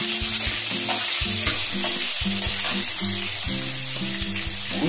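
Cumin and mustard seeds sizzling in hot oil for instant poha, a loud, dense crackling sizzle heard up close and steady throughout, with a low repeating tonal hum beneath and no voices.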